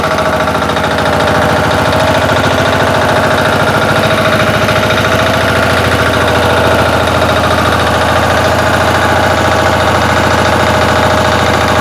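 A Motor Sich walk-behind tractor engine runs steadily, a loud, close, rhythmic chugging hum that holds without a break.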